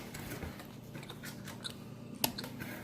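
Quiet, close crunchy chewing and biting of Papa John's cheesy bread, soft intermittent mouth sounds with one sharper crunch near the end, no talking.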